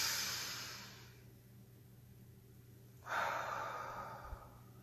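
Slow deep breathing during a calming exercise: a long audible exhale through the mouth fades out, and after a pause a second breath swells up close and quiet, with no talking.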